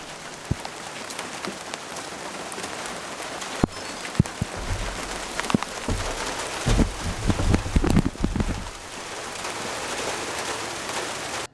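Steady rain falls throughout, a dense broadband patter with occasional louder drips and thumps, recorded near a truck bed outdoors.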